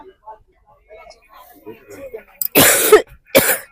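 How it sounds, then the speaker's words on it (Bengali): Two harsh, loud coughs from a person with a hoarse, strained throat on a train, close up, near the end after a stretch of quiet, low mumbling. "এতটা কাশি হয়ে গেছে গলা পুরো বসে গেছে"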